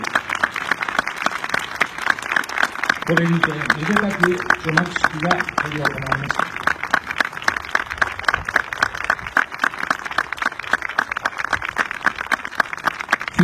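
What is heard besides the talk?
applause at auditorium unveiling ceremony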